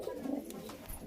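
A single male Rampuri pigeon coos in a loft, one soft, low, throaty call that is quiet and brief, with no voices over it.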